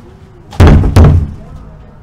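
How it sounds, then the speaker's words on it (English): Two loud, heavy knocks on a back door, sharp and close, about a third of a second apart, ringing briefly in a quiet room. "Who the fuck is knocking on my back door?"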